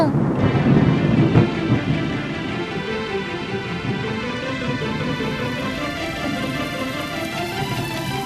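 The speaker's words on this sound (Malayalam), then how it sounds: "അയ്യോ, മഴ വരുന്നു." Rain and thunder in an animated cartoon: a deep rumble of thunder opens, then steady heavy rain with a faint musical score underneath, loud and continuous.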